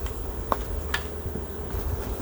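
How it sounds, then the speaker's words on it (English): Honeybees hum in a soft, steady drone close by inside a hive, with a few brief higher buzzes from individual insects passing near. "there's a lot of bees in here"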